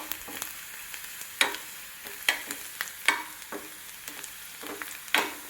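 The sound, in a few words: onions sautéing in a pan for curry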